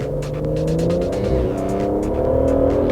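An Aston Martin sports car accelerating hard in third gear, a loud, close engine note climbing steadily in pitch with a strong buzzy roar throughout.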